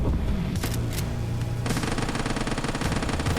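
An airstrike hitting zombies in the Quarantine Zone game: dense rolling booms and crackling explosions, loud and continuous, swelling into a heavier rumbling barrage halfway through.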